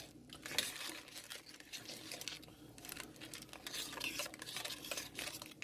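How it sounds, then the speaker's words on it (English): A spoon stirs thick crab étouffée, made with blue crab and cornstarch, in a pot, giving a steady close scraping and sloshing with light clinks against the pot that continue throughout. "I'm going to just start stirring this baby up"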